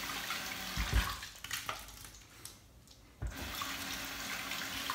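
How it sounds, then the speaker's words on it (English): Running water from a tap rinses a Stirling boar shaving brush, a steady close hiss with a brief dip in the middle and small splashy knocks as the brush is worked under the stream. "Just go ahead and rinse my brush out right now so I can show you the knot and how it splays."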